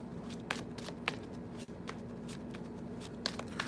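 Tarot cards being shuffled by hand, a continuous riffling rustle with several sharper snaps and taps over a faint background hum, no voice present.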